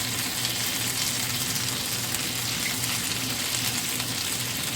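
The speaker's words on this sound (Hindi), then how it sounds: "वीडियो में फ्राइंग का सिजल बहुत ज़्यादा आ रहा था" Steady, moderate sizzling and frying of spicy street-style chicken on a hot tawa, a continuous hiss with no talking.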